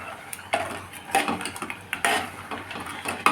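A spoon stirs payesh rice pudding sweetened with batasha in a pot on a gas stove, giving close, irregular scrapes and metallic clinks against the pot with no talking.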